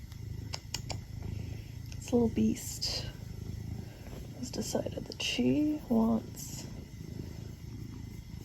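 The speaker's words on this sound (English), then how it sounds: "I don't know if you can hear her purring, but I kind of hope you can." A cat purring in a close, steady low rumble, lying on a person indoors, with someone speaking softly over it almost throughout.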